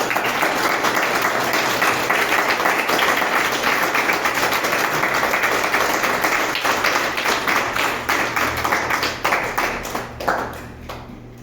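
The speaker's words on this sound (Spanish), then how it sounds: "Dale una ofrenda de palmas al Señor." A church congregation gives a sustained round of applause, with dense clapping at steady volume that thins and fades out near the end.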